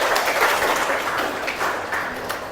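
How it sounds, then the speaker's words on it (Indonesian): Applause in a university classroom lecture, a short burst of scattered clapping from students, moderately loud and dense, fading slightly toward the end with no speech over it. "Tepuk tangan lagi."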